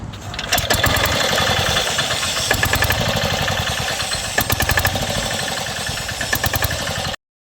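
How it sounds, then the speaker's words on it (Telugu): A freshly repaired fishing boat engine runs steadily and close, with a fast, even knocking chug and a few louder bursts, then cuts off abruptly near the end. "ఇంజిన్ అయితే బాగానే స్టార్ట్ అయింది"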